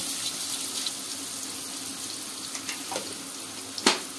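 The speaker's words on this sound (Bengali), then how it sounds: "আলুগুলোকে একটু ভেজে নেব" Potato pieces with a little turmeric and salt fry in a pan, giving a steady bubbling sizzle with a few soft clicks and one sharp knock near the end.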